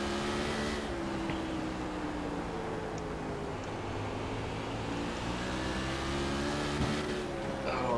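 A sprint car engine in the video game iRacing at Southern National, a steady loud droning roar with slight pitch shifts as the car drives through a corner, with no talk over it.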